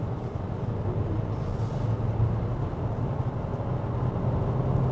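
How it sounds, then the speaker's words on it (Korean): A Renault Grand Koleos hybrid in sport mode accelerates, with a low, steady drone of engine and road noise heard from inside the cabin, even and moderately quiet throughout. "가속 페달 꾹."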